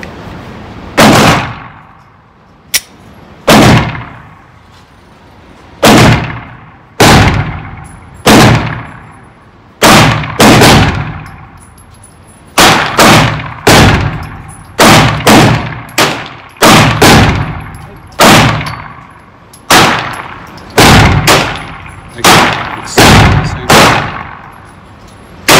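A Glock 48 pistol fires rounds from Shield Arms S-15 magazines at a practice session; about twenty loud, sharp single shots ring out at irregular intervals, sometimes in quick pairs, each followed by a short decay.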